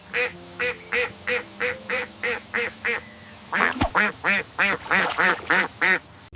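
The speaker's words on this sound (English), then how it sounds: "It's a duck." Duck quacking in a quick, regular series of about fifteen loud, close nasal calls, evenly spaced at first, then a brief rasping flurry and a faster, fuller run of quacks.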